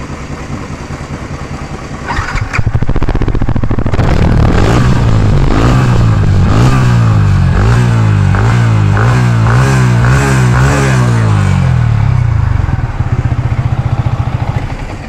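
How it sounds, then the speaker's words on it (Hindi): Yamaha MT-15 BS-VI motorcycle exhaust, close and loud: a steady idle, then a run of repeated throttle blips that rise and fall in pitch, before it settles back to idle. "तो ये था इसका एग्जॉस्ट साउंड"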